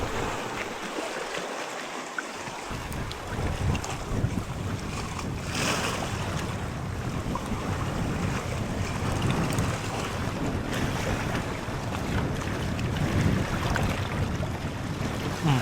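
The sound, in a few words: strong wind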